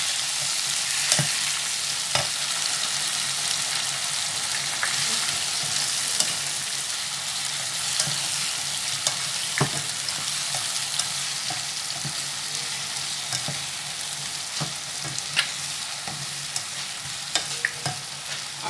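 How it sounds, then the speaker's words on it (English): Plantain and corn fry in a pan with fresh tomatoes and pepper, giving a steady close sizzle broken by repeated scraping clicks of a spoon stirring, with no voices. "This is my plantain corn frying."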